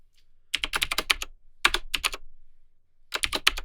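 A computer keyboard typed on in bursts while entering a command on a macOS terminal: three rapid clusters of crisp, close keystrokes separated by short silent pauses.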